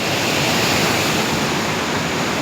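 Water of the Brahmaputra river rushes in a loud, steady roar close by, a dense unbroken wash with no voices.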